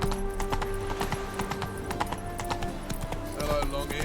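Roach, Geralt's horse in The Witcher 3, gallops with a rapid, loud, rhythmic clip-clop of hooves, with a faint whinny and in-game music underneath.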